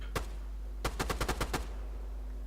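Gunfire, probably in a video game: a single shot, then a quick burst of about seven rapid shots. The shots are crisp and fairly close over a low steady hum.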